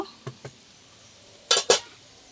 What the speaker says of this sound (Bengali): এবার আমি আবারও ঢেকে দেবো ওগুলো সিদ্ধ হওয়ার জন্য।